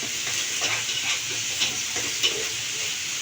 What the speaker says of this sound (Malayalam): 1 ടീസ്പൂൺ ഒഴിച്ചിട്ടുണ്ട് ഓയിൽ. ഇതൊന്ന് വാട്ടിയെടുക്കണം.